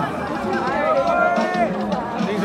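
Outdoor crowd chatter at the Rally to Restore Sanity, a dense, steady babble of many voices with one clearer voice rising above the hubbub.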